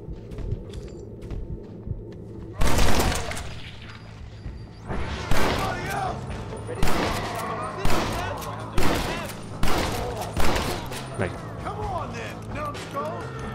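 Gunfire in the Red Dead Redemption: Undead Nightmare video game, a run of sharp, loud shots spaced about a second apart after an opening burst, with mechanical clicks and game sounds and someone speaking in between.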